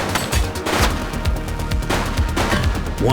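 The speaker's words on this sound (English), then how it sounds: "She's shooting!" Rapid bursts of gunfire from the police video game The Precinct crack out in quick, loud succession, several sharp shots overlapping in a dense volley with no voices over them.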